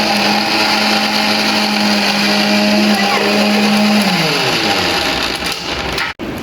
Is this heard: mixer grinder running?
yes